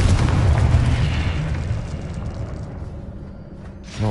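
Confringo spell explosion in the Hogwarts Legacy video game, a loud deep boom rolling into a rumbling decay that fades over several seconds, with a brief burst near the end.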